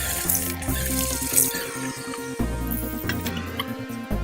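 Tap water runs and splashes into a bowl, the pitch rising and shifting as it fills, steady and close.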